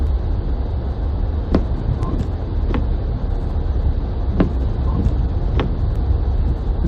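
Car driving through snowy downtown Vancouver streets during a blizzard, a steady low engine and road rumble from inside the vehicle with a few faint clicks and knocks over it.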